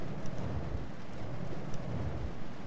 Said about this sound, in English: Oh my god, that rain is loud.